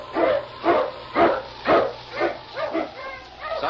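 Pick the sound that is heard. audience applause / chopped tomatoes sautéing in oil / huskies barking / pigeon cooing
huskies barking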